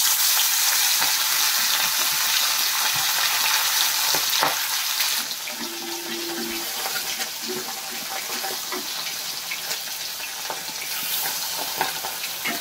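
Fish fries in hot oil in a kadai, a steady bright sizzle and crackle filling the whole stretch, loud and close, with a few faint clinks.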